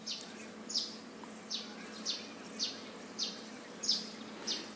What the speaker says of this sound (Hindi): आपके पीछे चिड़ियों के चहचहाने की आवाज सुनाई दे रही है